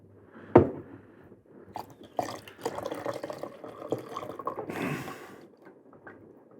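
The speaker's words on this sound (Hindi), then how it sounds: "पानी डालेंगे, डालिए इसमें" Water poured into a glass of khas khas (poppy seed) sherbet made with cardamom, mishri and almonds: a sharp splash followed by several seconds of bubbling, gurgling pouring nearby.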